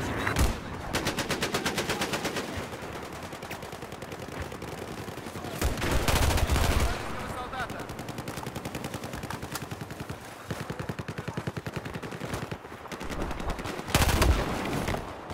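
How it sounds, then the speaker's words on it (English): Sustained enemy machine gun fire in the video game Battlefield 4: long rattling automatic bursts with a few heavier booms, steady and moderately loud throughout. "There appears to be enemy machine gun."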